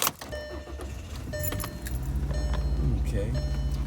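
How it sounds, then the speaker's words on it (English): Keys jangle in the ignition of a 2020 Volkswagen Passat, and then the engine starts and settles into a steady, low idle, heard close inside the car. "I am going to start the car so we can see a little bit more in depth"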